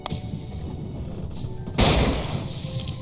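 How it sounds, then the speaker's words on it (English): A deep, booming cannon blast in the video game Christmas Fables 4 bursts out partway through, rolling off over a steady background of game noise and music. "A cannon."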